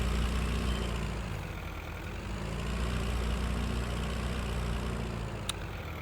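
A tractor in Farming Simulator 19 idles during a logging session, a steady low engine rumble and drone holding constant for several seconds with no talk over it.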